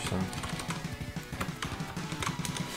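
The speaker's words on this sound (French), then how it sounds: "Vous pouvez voir comme je tape trop bien au clavier en plus." Fingers type quickly on a computer keyboard in OpenOffice, a close run of light irregular taps and clicks with no talking.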